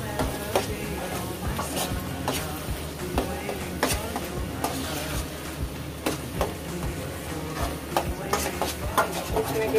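Lauki (bottle gourd) halwa stirred in a pan: repeated scraping and clacking strokes of a spoon against the pan with a faint sizzle underneath, fairly quiet and irregular throughout.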